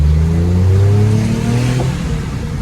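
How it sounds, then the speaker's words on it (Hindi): A Suzuki Every van, freshly back from an engine overhaul to fix worn-out valves, pulls away on a test drive, its engine revving and climbing in pitch through the gears, loud and close from inside the cabin. "गाड़ी की टेस्ट ड्राइव ले रहा, गाड़ी हमने वर्कशॉप से उतार दी है"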